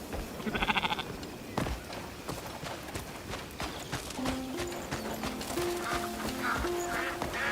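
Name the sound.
sheep bleating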